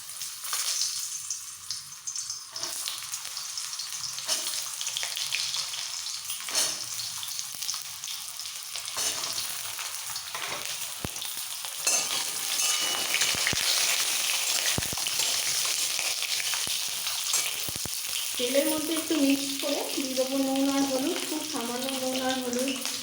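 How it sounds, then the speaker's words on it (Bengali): Pointed gourds (potol) dropped into hot mustard oil in a heated kadai give a loud, steady broadband sizzle that runs throughout, with a voice briefly audible toward the end. "সবার আগে পটলটা ভেজে নিচ্ছি কড়াই গরম হয়ে গেছে দিয়ে দিচ্ছি সর্ষের তেল তেল ভালোভাবে গরম হয়ে গেছে এবার পটলগুলোকে দিয়ে দিচ্ছি"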